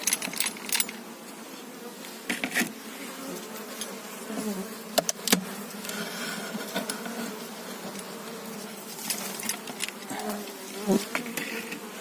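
Honey bees buzz steadily at a hive, a dense, continuous hum close by, with occasional louder buzzes as individual bees fly past.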